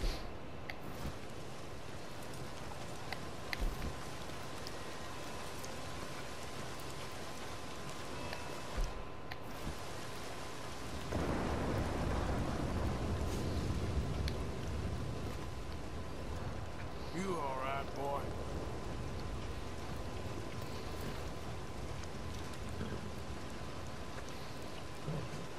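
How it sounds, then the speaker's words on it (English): Steady rainfall in Red Dead Redemption 2, a broad hiss running throughout that thickens partway in; a voice speaks over it at times. "Rainy day."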